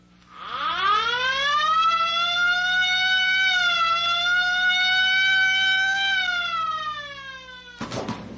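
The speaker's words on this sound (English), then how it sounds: "Ambulance." An ambulance siren wails steadily and loudly for several seconds, its pitch rising at the start and then holding in a sustained tone with slight dips, cutting off abruptly near the end.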